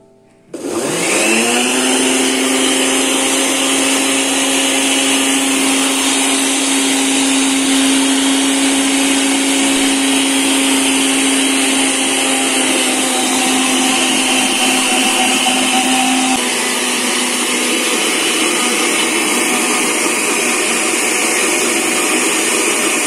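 Hand mixer whirring at full speed while beating homemade mayonnaise as oil is added, a loud continuous high-pitched drone that starts abruptly and holds steady, its tone shifting slightly near the end as the emulsion thickens.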